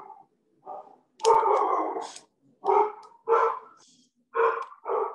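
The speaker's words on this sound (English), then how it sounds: "Dogs are excited." Dogs bark excitedly in short, sharp bursts, several barks in an uneven rhythm with brief pauses, fairly close and clear over a quiet background.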